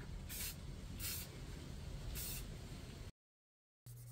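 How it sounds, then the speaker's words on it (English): A rattle can of primer sprays onto a wooden swimbait lure, a steady broad hiss with three brief louder pulses as the nozzle is pressed, lasting about three seconds before cutting to silence and resuming. "I clean the surface of the bait before applying my favorite rattle can primer."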